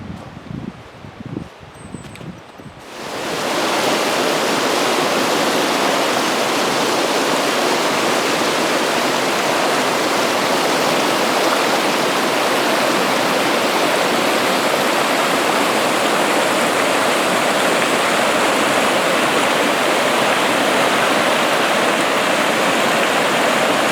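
The Dungeness River rushes beside a forest trail, a dense, steady roar of flowing water that comes up after a few seconds of quieter sound and then holds loud and constant.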